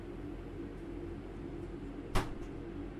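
A train door slams shut in the Train Sim World 3 simulation on the Glossop Line: one sharp, close thud over a steady low engine hum, followed by a faint rattle.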